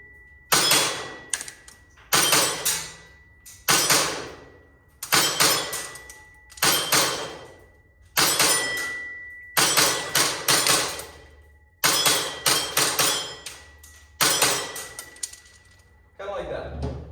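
Pistol shots ringing off steel plates at a steel challenge shooting match: sharp, loud, evenly spaced bursts, each followed by a quick metallic decay, repeating about ten times in a steady rhythm.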